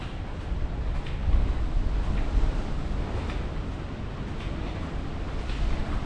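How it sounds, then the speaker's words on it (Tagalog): Typhoon Ragasa wind at Signal 10 in Hong Kong, whistling and roaring steadily around a residential block, a broad continuous rush with gusty swells, no talk. "Sipol ng hangin."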